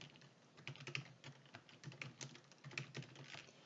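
Quiet typing on a computer keyboard during an ITQ PowerPoint exam chart exercise, irregular bursts of soft key clicks and taps with short pauses between them, close and faint, no talking.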